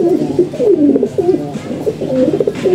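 Several pigeons coo continuously in a loft, low rolling calls overlapping one another at close range with faint background noise and no talking.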